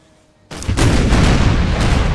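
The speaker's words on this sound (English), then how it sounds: "We're gonna order the cannons here. Hopefully, we'll be firing above the Royal Guard squadrons." Cannon artillery fire in Empire: Total War during a battle in the Scotland campaign: after a silent half-second, a loud booming volley erupts and rolls on as a sustained rumble of overlapping cannon reports.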